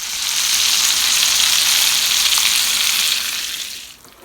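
Pork chops sizzle loudly in a hot pan as they are stirred, a dense, steady hiss close by that fades out near the end.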